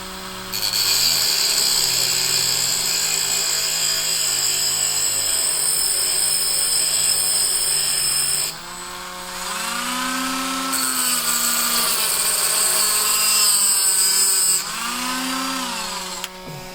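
Dremel rotary tool grinding and rounding a custom key pin, a steady high-pitched whine for about eight seconds, then a short pause and two more bursts with the pitch sliding as it loads against the metal, loud and close.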